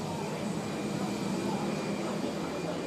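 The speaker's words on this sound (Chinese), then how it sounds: "再看一下我们的飞机，哇，好长的飞机啊！" A passenger airliner at an airport gives off a steady, dense engine roar that stays even and fairly loud from start to finish, with no clear breaks.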